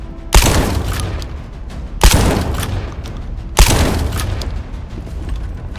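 Three heavy, booming weapon blasts in the looter shooter The First Descendant, each a sharp loud report followed by a long rumbling tail, spaced about a second and a half apart.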